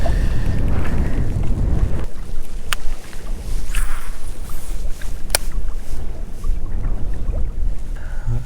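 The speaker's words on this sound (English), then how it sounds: "I'm sure y'all can't even hear me in the wind" Strong gusty wind roars across the microphone beside a river bank on a fishing outing, a loud continuous rumble with buffeting bursts and no talking.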